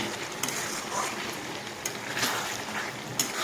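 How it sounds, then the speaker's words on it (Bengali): Curd mutton frying in a pan gives off a steady, faint broadband sizzle, with a few sharp clicks as it is stirred now and then. "এখানে আমি একটু পর পর একটু নাড়িয়ে চেড়ে নেব"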